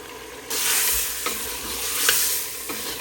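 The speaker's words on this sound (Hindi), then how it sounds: "अब मैं इसके अंदर ये जो पाउडर मसालों का मैंने पेस्ट बनाया था वो मैं इसके अंदर डालता हूँ" A spice paste of ground powders hits a hot pan for haleem and sizzles steadily up close, with a few scraping stirs through the frying and no talking.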